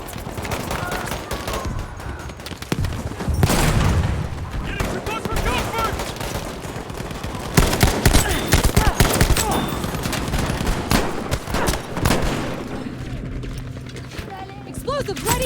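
Johnson rifle fire in the video game Battlefield V: loud, dense bursts of shots and impacts in quick succession, with heavier booms and mechanical clatter mixed into the chaotic battle noise.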